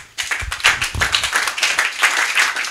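A church congregation breaks into a burst of enthusiastic applause, many hands clapping close and loud in a dense, uneven patter that carries on steadily.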